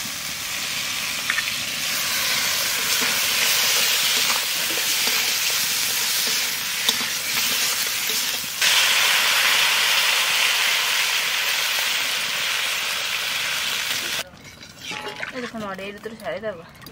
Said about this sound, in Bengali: মশলা কষানো হয়ে গেছে, এবার টমেটো দিয়ে জল দিয়ে দেবো।